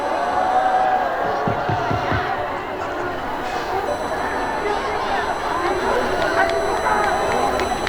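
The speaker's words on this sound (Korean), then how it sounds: "큰 박수로 주세요" A large crowd at a Gwanghwamun rally against President Yoon Suk-yeol's impeachment cheers and claps in a steady, dense roar, with an amplified voice speaking over it.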